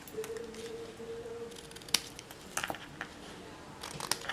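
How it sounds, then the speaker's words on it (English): Scissors trimming paper for a handmade pendulum birthday card, a few short crisp snips and rustles close by, fairly quiet, with no talking. "Take my scissors and trim that down."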